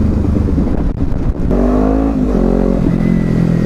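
A Kawasaki Z300 motorcycle engine pulls steadily at moderate revs while riding, a loud, close, continuous drone whose pitch dips briefly then climbs again, with wind rush and no talk.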